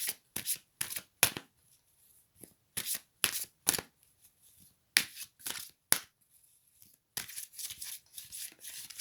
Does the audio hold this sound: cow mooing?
no